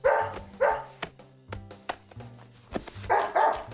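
Willy the dog barking in the video game Deadly Premonition, a series of close, moderately loud woofs in an uneven rhythm with brief gaps between them, no talking.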